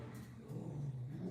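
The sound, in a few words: garbage truck driving past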